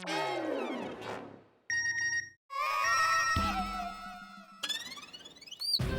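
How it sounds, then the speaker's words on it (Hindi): Mobile phone ringtone going off in a classroom, a series of bright electronic tones and jingles in quick changing bursts, loud and close, with other comic sound effects mixed in. "अभी किसका बजा मोबाइल?"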